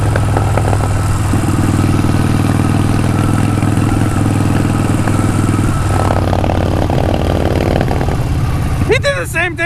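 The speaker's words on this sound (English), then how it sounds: "Nothing like sketchy ass motorcycles." A rebuilt Harley-Davidson Sportster 48 idles loudly nearby, a steady low rumbling throb with clattery texture that shifts slightly midway, and a voice cuts in at the very end.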